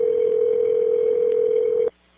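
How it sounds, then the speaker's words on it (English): A steady telephone tone from an automated follow-up call to a hospital patient, one sustained loud hum lasting nearly two seconds before cutting off abruptly, with no voices over it. "Automated phone calls checking their progress."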